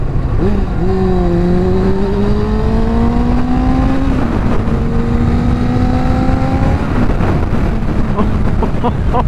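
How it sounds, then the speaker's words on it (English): A 2000 Kawasaki Ninja ZX6R sports bike with a Micron exhaust revs loud and close, its engine note sweeping up through rising pitch in several long pulls, dropping and climbing again over steady background rumble. "It sounds how a sports bike should sound."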